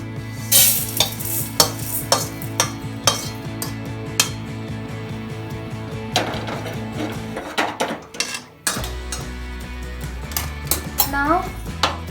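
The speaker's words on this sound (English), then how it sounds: "Now transfer these ingredients into a bowl." Roasted masala spices being scraped and tipped from a kadai into a bowl, with repeated close metallic knocks and spoon scrapes in a steady uneven rhythm and a brief pause midway.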